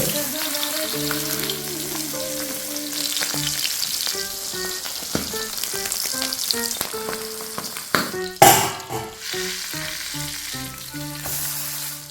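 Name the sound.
fish frying in oil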